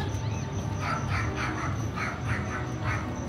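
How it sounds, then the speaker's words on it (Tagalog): Big dogs at a dog park bark in a rapid, repeated series of sharp woofs, moderately distant over a busy, noisy background. "Uy, may malalaking aso."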